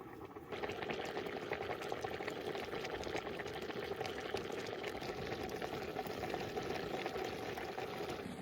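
Rice and chicken pulao made with a home-raised desi rooster bubbles steadily in a pot, a dense, continuous boiling hiss that starts after a brief quiet moment and holds evenly throughout, with no talking.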